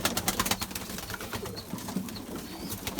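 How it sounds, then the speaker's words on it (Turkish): A white pigeon beating its wings at another pigeon: quick bursts of flapping and fluttering at close range, with faint cooing and rustling from other birds around. "O da ona kanat çarpıyor."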